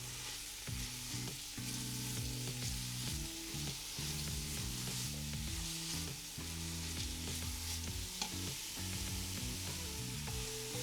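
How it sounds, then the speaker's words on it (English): Chopped onions sizzle and fry in hot butter as they are stirred for soup, a steady crackling hiss with intermittent scraping of the stirring utensil throughout. "What I'm going to do is lower down all of the onions and give them a nice mix."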